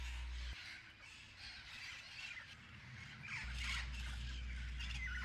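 Harsh red-crowned Amazon parrot squawks ring out repeatedly, some near and some farther off, over a quiet outdoor background with a low steady hum.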